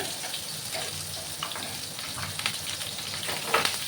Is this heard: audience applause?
no